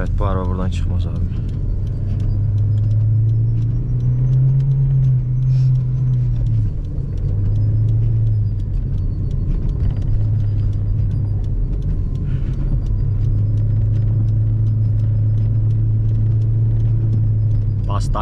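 Car struggling along a rough, snowy road, its engine rumbling low and wavering in pitch as it labours, while people talk over it.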